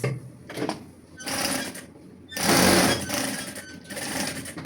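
A sewing machine top stitches Christmas pyjama pants in short bursts, whirring close up with uneven pauses between runs.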